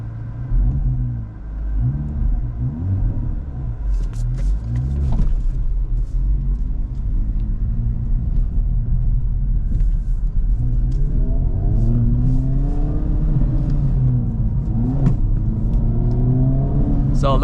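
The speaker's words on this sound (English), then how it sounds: "let go of brake, let go of clutch, and give it a little bit of gas." A manual 2025 Acura Integra Type S pulling away from a stop in first gear, its engine rumbling steadily and then climbing in pitch as it accelerates, heard from inside the car.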